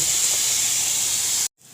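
Spice paste sizzles in hot oil in a pan, a loud, even, continuous hiss that stops abruptly just before the end.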